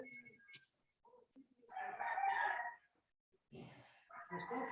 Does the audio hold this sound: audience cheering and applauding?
no